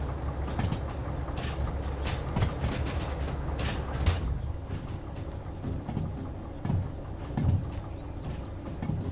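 Freight train cars rolling and clanking in the railway game Derail Valley, with a steady rumble, rattles and metallic knocks through the first half, then quieter rolling with occasional thumps.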